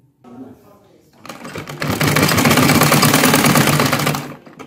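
A sewing machine stitches the back neck of a blouse, starting with a few slow stitches, then running fast and steady for a couple of seconds before stopping; a voice speaks over the opening.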